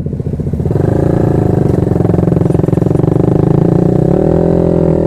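Small motorcycles at a mini bike meet ride past close by, their engines droning loudly and steadily, with the pitch shifting as they pass.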